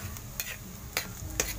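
Garlic sautéing in a wok beside set-aside ginger for a chicken dish, a faint low sizzle broken by three distinct scraping stirs spaced about half a second apart.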